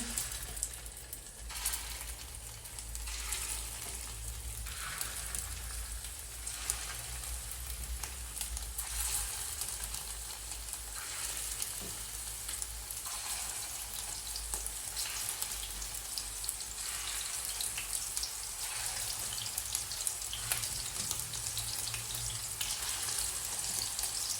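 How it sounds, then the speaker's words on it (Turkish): Meatballs fry in hot oil in a pan, with a dense, even sizzle and crackle that holds steady throughout, close by and fairly quiet, with no voices over it. "Şimdi köfteler kızarırken biraz da şöyle altını kısayım ben."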